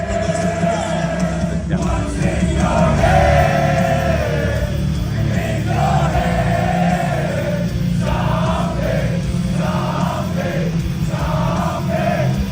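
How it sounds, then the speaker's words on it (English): A large crowd at a bare-knuckle fighting event sings a song chorus together, loud sustained massed voices swelling in phrases over a muffled background. "the whole crowd was singing"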